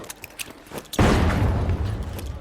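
A loud grenade boom bursts in after scattered clicks and taps in the game The Finals, then rumbles on for over a second with a rough, blasting tail.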